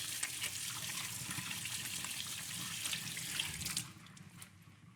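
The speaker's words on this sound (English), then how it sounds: "So meanwhile, I'm going to wash my hand, of course." Tap water runs steadily into a sink while hands are washed in a home kitchen during stir-fry beef prep, a close, continuous splashing rush that cuts off near the end, leaving a faint trickle.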